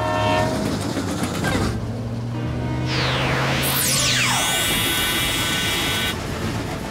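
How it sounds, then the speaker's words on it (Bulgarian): Cartoon train from a children's animated rescue show, a loud continuous rumble with clickety-clack and bright swooping whistle or horn blasts sweeping up and down mid-clip, no talk. "Но първо трябва да спрем влака."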